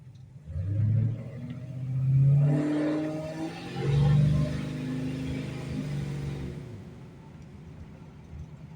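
A 1986 Chevy Monte Carlo SS with a big block 454 V8, dome pistons, aluminum heads, custom crank and a brand new exhaust revs in several deep, rumbling surges that swell and fall back to a steady idle, close and loud.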